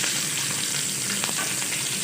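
Finely chopped capsicum hitting hot oil with golden-browned garlic for Indian-style white sauce pasta, giving a steady, close sizzle and crackle with faint stirring clicks.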